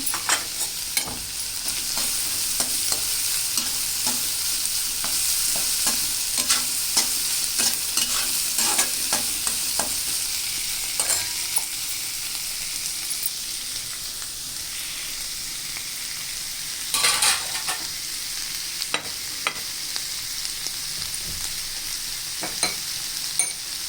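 Carrots for a curry fry in a pan with a soft, continuous sizzle while a spoon stirs them, scraping and clicking against the pan at a close, moderate level.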